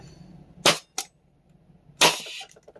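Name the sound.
FLAK 10 shooting test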